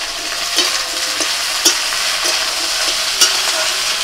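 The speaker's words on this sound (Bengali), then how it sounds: "আলু আর ফুলকপি খানিকক্ষণ ভেজে নিয়েছি" Potatoes, cauliflower and green chillies fry in a pan with a loud, steady sizzle, broken by regular sharp scrapes and clicks of a spatula stirring.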